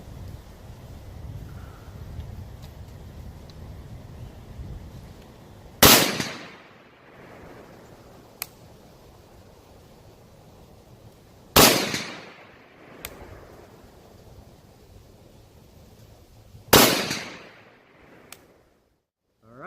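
Three loud, sharp rifle gunshots fired at painted targets outdoors, spaced several seconds apart, each with a long fading echo over faint wind and ambient noise.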